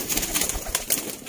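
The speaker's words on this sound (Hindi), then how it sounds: "सियालकोटी छत वाले बैंक वाले कबूतर" Sialkoti rooftop pigeons cooing close by, soft throaty coos and rustles repeating in quick irregular bursts, with no talk over them.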